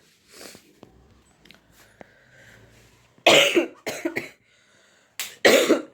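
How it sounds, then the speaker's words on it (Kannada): Several sharp, close coughs in bursts, two clustered then a pause and two more, preceded by quieter rustling and breathing. "ಇನ್ನೂ ಕೆಮ್ಮು ಹಂಗೈತೆ"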